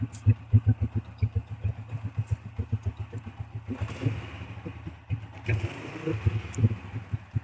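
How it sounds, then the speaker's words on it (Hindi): A faulty Honda 125 motorcycle engine runs loudly nearby, a rapid pulsing idle with a rough, uneven beat that swells briefly midway, with no talking over it. "तो यार यहाँ से आवाज आ रही है बहुत तेज वाली यार।"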